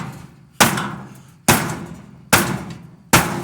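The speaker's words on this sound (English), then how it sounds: "the plastic's breaking" Four sharp hammer blows strike and crack the plastic of a clothes dryer being scrapped, at a steady pace, each a loud close impact with a brief crunchy decay.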